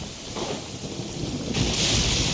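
Heavy rain hisses steadily in the Genshin Impact video game while a deep rumble of thunder rolls underneath, growing louder and brighter toward the end, with no talking.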